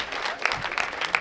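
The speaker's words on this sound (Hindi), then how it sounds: "जोरदार तालियों से उनका।" A brief, fairly soft burst of audience clapping for a visiting poet from Kota, Rajasthan, at a Hindi kavi sammelan poetry gathering, with scattered sharper claps standing out.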